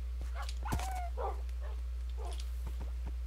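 Dogs in the Minecraft video game whimper and yip in short, high, fairly faint bursts scattered across a few seconds.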